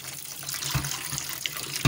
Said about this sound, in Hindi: इसको अच्छी तरह मसल के पानी से धो लेंगे,